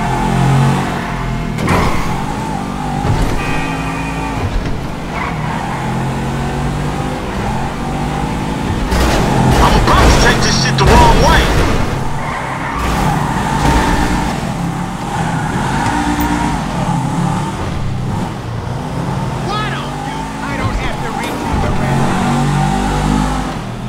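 Engine of a car driven through streets and a parking lot in the video game GTA V, revving and accelerating in repeated surges, loudest around the middle, with gear changes and a steady motor drone throughout.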